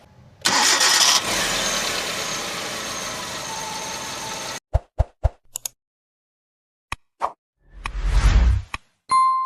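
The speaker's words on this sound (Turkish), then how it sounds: "Gelin şimdi aracın motor sesini dinleteyim." A Hyundai Accent Era 1.4 engine cranks and catches, followed by a steady idle lasting about four seconds. Then come several sharp separate knocks and clicks and a short burst of engine revving, all close and fairly loud with no talking.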